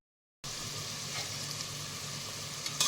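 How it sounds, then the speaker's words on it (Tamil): Cinnamon, cloves and cardamom hit hot oil for chicken biryani, and a steady, close sizzle starts abruptly after a brief silence, then holds evenly with a faint clink near the end and no speech. "பட்டை கிராம்பு ஏலக்காய் போட்டு பொறிஞ்சு வந்துடும்"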